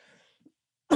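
A single short, close cough bursts out at the very end after near silence, loud and abrupt.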